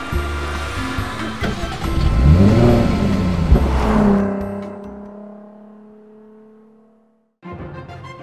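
A 2013 Jaguar F-Type sports car pulls away with a swelling engine roar that peaks, then recedes into the distance and fades to near silence before a brief new sound starts.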